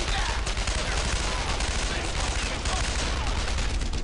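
Dense, continuous gunfire and rapid machine-gun bursts from the World War II shooter Brothers In Arms: Earned In Blood, loud and sustained throughout, with a voice mixed in.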